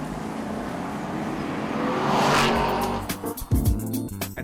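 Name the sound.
Aston Martin Vantage V8 engine and exhaust at full clip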